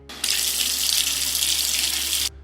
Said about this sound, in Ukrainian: і я чую, як тече вода.